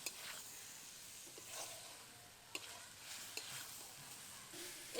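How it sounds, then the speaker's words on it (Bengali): Fried turmeric cauliflower stirred with ground spice paste in a pan, without water: a low continuous sizzle with soft scraping strokes and a few sharp utensil taps, fairly faint and distant. "এবার মশলার সাথে কিছুক্ষণ নেড়ে নেব।"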